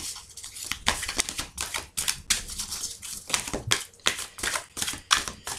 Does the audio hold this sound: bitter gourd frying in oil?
no